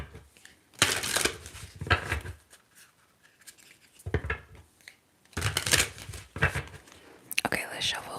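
Tarot cards are shuffled up close in soft, crisp riffling bursts that come in irregular clusters, with quiet gaps between them.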